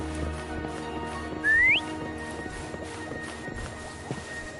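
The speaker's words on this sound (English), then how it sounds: "Why don't you call Foam over? Try whistling." A single short rising whistle, clear and fairly loud, calls a horse named Foam in the Wuthering Waves video game, over a steady ambient musical background.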